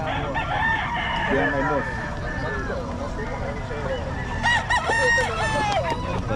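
Gamecock roosters crow repeatedly at a sabong seller's stall in Bocaue, several overlapping cock-a-doodle-doo calls near and loud, with people talking throughout.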